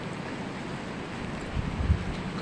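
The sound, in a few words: strong typhoon wind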